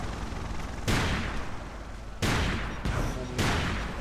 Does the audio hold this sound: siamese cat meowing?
no